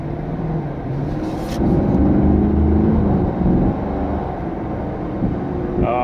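A 2016 Chevrolet Camaro SS with an eight-speed automatic transmission accelerating from inside the cabin, a deep engine drone that rises in pitch, drops at gear shifts and climbs again, loud and without talk.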